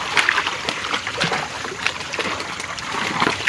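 Floodwater rushes through a ravine where goats are being herded, a steady close roar of splashing and churning water that never lets up.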